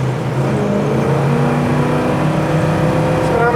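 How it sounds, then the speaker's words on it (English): A 1974 Cuda cruising down the road at speed, a steady loud engine drone with road and wind rush throughout, smooth with no rattles, no voices. "Just smooth running car"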